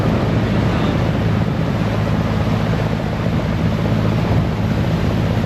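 A fast boat with three engines roars past at sea before a typhoon, a steady, loud, close engine drone with wind buffeting throughout and no talk.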